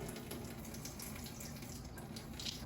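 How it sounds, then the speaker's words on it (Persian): Water steadily trickles and runs off salted, softened cabbage being handled for Korean kimchi, a quiet, even stream heard close up without speech. "ببینید چقدر آب ازش میاد."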